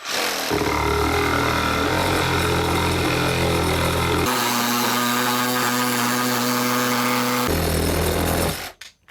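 A Parkside PKGA 20-Li C2 cordless reciprocating saw runs loudly and steadily through wood with a harsh buzzing drone, shifting pitch partway through as it cuts, then stops abruptly at the end.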